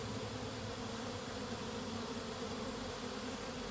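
Honeybees swarming around a hive colony, a dense, steady buzz with no break, fairly quiet and filling the whole stretch.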